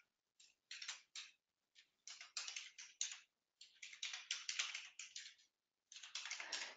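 Fingers type an email address on a computer keyboard, with quiet, close bursts of rapid key taps separated by short pauses.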